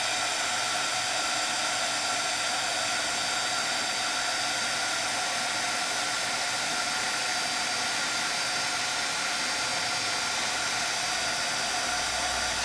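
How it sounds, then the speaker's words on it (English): Heat tool blowing hot air to set embossing glaze: a loud, steady, close whirring hiss like a hair dryer, unbroken throughout with no talk. "Bring over my heat tool"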